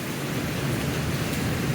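Dense, steady rain pours down without a break, a broad hissing wash close by, heard from a rooftop.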